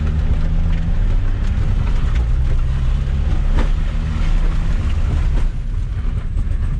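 A Volkswagen Golf 3 GT engine roars loudly and close under hard acceleration, holding a strong, continuous drone throughout.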